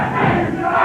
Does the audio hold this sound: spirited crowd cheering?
yes